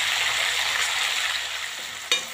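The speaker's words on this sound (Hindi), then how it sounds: "हम एक छोटा छोटा टमाटर काटा है वो डालेंगे और अच्छे से मिला देंगे।" Chopped tomato drops into onions frying in a pan, a steady broadband sizzle running throughout, then a sharp clatter near the end as the mixture is stirred.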